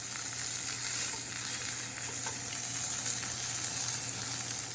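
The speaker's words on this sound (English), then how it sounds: "I'm going to position the steak and sear." A rib eye steak sears in a hot pan, giving a constant, dense sizzle that holds steady, close and fairly loud, with no voices over it.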